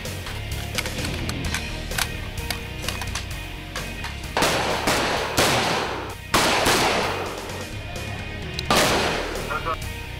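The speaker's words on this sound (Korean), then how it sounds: "먼저 0점 사격 후 결과를 확인합니다." Rifle gunfire at a military zeroing range during special-forces-style training: several loud, sharp broadband shots spaced a few seconds apart over steady background noise.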